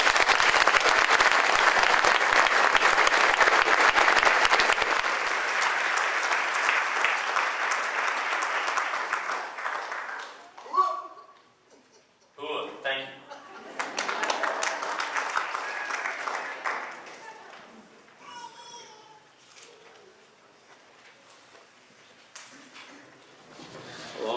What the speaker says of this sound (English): Please recognize him with just a round of applause.